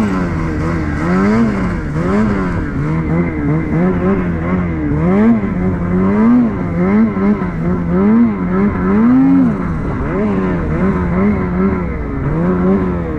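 A Gen 5 Turbo R snowmobile engine drones loud and close while riding through deep untouched powder, its pitch rising and falling in repeated surges as the throttle works through the snow.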